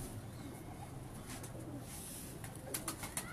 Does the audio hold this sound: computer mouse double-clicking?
no